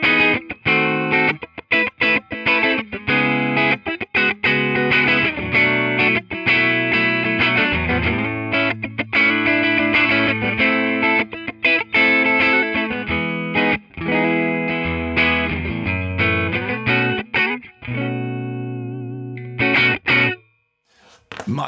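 PartsMaster Caster electric guitar played through a ToneX amp model, a sustained run of distorted chords and picked notes with effects coloring the tone, loud and close, alone without talk, ending in a sudden stop and a brief final strum.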